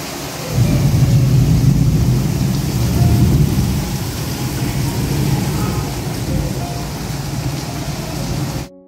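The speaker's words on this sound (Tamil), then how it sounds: "முதல் நாள் பாத்தீங்கன்னா செமையா மழை வந்துச்சுங்க" Heavy rain pours down steadily in Oman, a dense loud hiss with low rumbling like distant thunder underneath, starting after a short quiet moment and running alone without voices.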